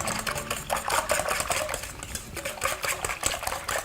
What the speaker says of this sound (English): I'm going to start by mixing 2 cups of milk and 4 eggs, and we'll beat those up